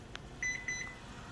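An oven sounds a short electronic tone at about 0.4 s, then a second one near 0.7 s as it is switched from baking to broil, both clear over a quiet kitchen background.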